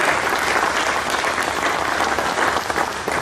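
Sustained audience applause fills a 2014 Nepes company New Year ceremony award presentation, a dense, steady clatter of many hands clapping at close range without pause.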